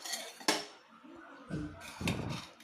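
A home pressure cooker holding prawn biryani is opened with clanking metal lid and utensil knocks, a sharp clink followed by scraping and rattling of pots, fairly close and moderately loud.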